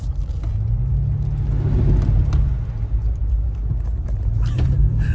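Truck rolling over a rough road and through a puddle, a loud, close, steady low rumble with a brief rise of washing, splashing noise in the middle and a few knocks near the end.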